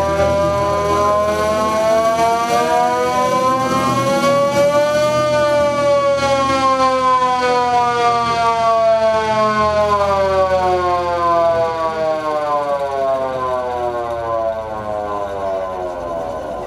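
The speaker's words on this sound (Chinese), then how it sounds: "这场音乐会重现当时美美轰炸前夕就会使用的手摇空袭警报器，向民众预警" A hand-cranked air raid siren wails loudly and steadily at a World War II bombing memorial concert, its pitch climbing then slowly sagging in one long continuous howl.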